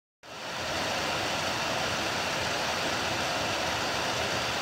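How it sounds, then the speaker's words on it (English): The cooling fans of an Acer V3771G laptop roar while the machine sits idle, with an overheating CPU. After a silent start they spin up into a loud, steady, broadband whoosh that keeps going without a break. "What you just heard was my laptop's fans going crazy, and this is while the laptop is idling."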